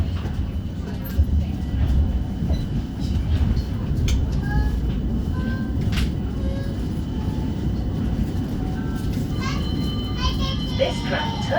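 A West Midlands Metro tram heading for Wolverhampton Station, heard from inside as it departs, with a continuous low rumble of wheels and motor, faint high squeals and whines, and children's voices chattering throughout.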